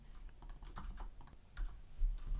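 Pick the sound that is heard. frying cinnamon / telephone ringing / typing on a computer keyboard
typing on a computer keyboard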